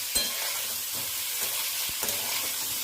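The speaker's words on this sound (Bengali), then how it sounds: "সামান্য নুন দিয়ে একটু নাড়াচাড়া করে লালচে হলে পনিরগুলোকে নামিয়ে নেব।" Paneer cubes frying with a little salt in a pan, a steady close sizzle with occasional soft stirring knocks throughout.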